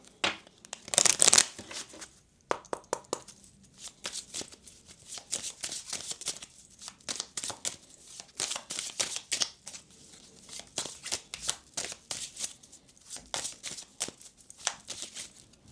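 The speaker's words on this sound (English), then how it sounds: "But now I'm going to pull out the rest of the cards." Tarot cards being shuffled and pulled from the deck close by, with a burst of riffling followed by many scattered slaps, flicks and rustles at an uneven rhythm.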